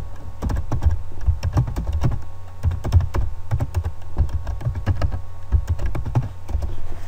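Close, rapid clicking of computer keys as a name is typed for a Windows shutdown shortcut, with quick irregular bursts of taps and brief pauses over a faint steady room hum.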